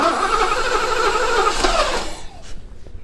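A car engine cranks over with the throttle held wide open for a dry compression test, a steady, loud starter churn for about two seconds before it stops and the clip goes quiet.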